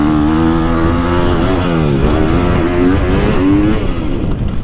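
A loud 2021 Gas Gas EX250F dirt bike engine revving close up, its pitch climbing and dipping through repeated throttle pulls with a rough, buzzing tone.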